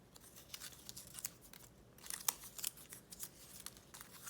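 Paper flip-book study cards being folded up by hand, giving a series of soft crinkling, creasing rustles with a few sharper crisp snaps, close and quiet with no talk.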